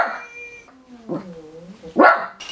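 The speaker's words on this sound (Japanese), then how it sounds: "喋るたびにですね、結構吠えるんですよね" Small pet dog at home vocalising at a LOVOT home robot's voice, with drawn-out whining howls and a sharp louder yelp near the end, close and indoors among the robot's faint electronic tones.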